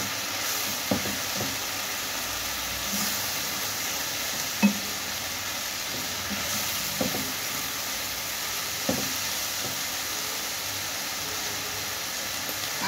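Minced meat with spices sizzles in a hot pan, a steady frying hiss with occasional soft scrapes and knocks as it is stirred.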